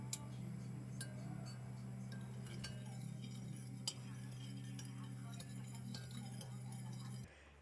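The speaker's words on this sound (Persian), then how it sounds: "هم میزنم تا یه مقداری شکر توی شیر حل بشه و بعد اونو روی حرارت میذارم." A spoon stirs sugar into milk in a pot for Iranian milk halva, giving light repeated clinks and taps against the metal over a steady low background hum, close and fairly quiet throughout.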